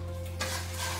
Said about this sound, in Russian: обжаренные кусочки я еще просеиваю через сито.